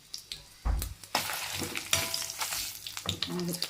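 Green chillies hit hot oil with a sudden loud burst of frying for a coriander chutney, followed by a steady sizzle and brisk stirring scrapes, close and alone.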